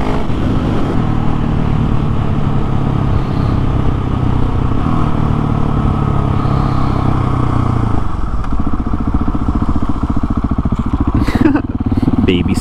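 A 701 motorcycle engine revs hard and loud for clutchless wheelies, a close, continuous roar with rough crackle that dips briefly near the end, no talking.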